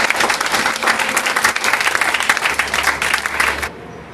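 A congregation at a church deliverance service claps for Jesus in a dense, steady burst of applause that fills the room and then cuts off abruptly near the end.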